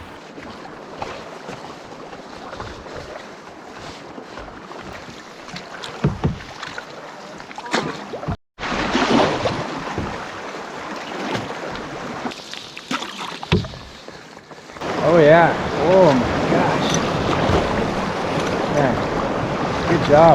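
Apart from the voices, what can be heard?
big cross-chop waves around a canoe on Lake Superior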